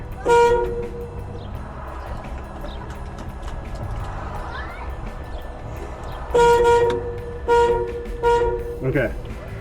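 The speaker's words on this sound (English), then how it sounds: "My guess is it's just going to start honking." A car horn toots in short, repeated bursts while a battery is connected during turn signal repair, sounding near and loud at the start and again in a cluster of quick honks toward the end.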